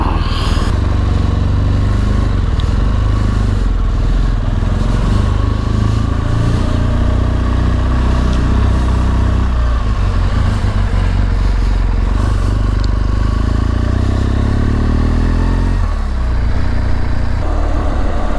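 A BMW GS motorcycle rides along the road on a group ride, its steady engine drone loud and continuous under heavy wind rumble for the whole stretch.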